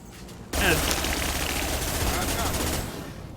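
Sustained automatic gunfire from Shepard's weapon in Mass Effect, bursting in loud and close after a short quiet lead-in, then rattling steadily for over two seconds before easing off.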